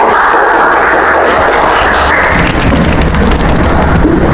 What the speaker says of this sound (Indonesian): Kita beri tepuk tangan untuk bintang tamu kita hari ini